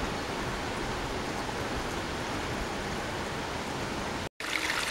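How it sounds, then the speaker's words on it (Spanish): Rainwater runs in small streams down forest paths in Galicia, Spain, making a steady, close, broadband rush and trickle that continues unbroken apart from a momentary cut near the end. "los caminos son ya pequeños riachuelos que bajan después de tanto tiempo lloviendo sin parar aquí en Galicia"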